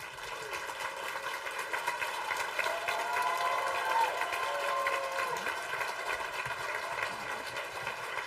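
An audience applauds after a talk at an innovation showcase, a steady, moderately distant wash of clapping that holds for several seconds while someone speaks over it.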